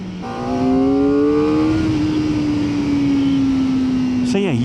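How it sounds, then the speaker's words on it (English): A 2025 Kawasaki Ninja ZX-4RR's four-cylinder engine screams at high revs, a loud sustained whine climbing steadily then holding near the top, with a quick blip and drop at the end. "you do have to get this engine screaming to get the most out of it"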